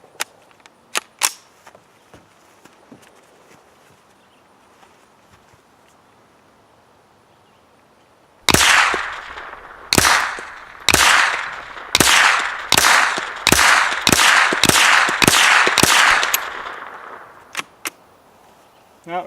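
A Ruger 10/22 takedown rifle in a Magpul Hunter X-22 stock fires about ten loud, sharp outdoor shots in an uneven rapid string, with a few fainter clicks and handling noises before the volley.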